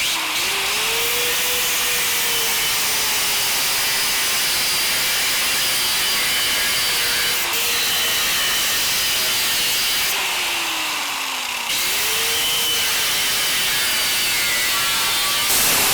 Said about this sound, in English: I'm gonna cut those welds off